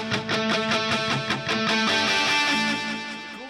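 Electric guitar played through an echo effect in a soaring, high-register style, with rhythmic repeated picked notes ringing and overlapping into sustained trails before fading, close and bright with no talking.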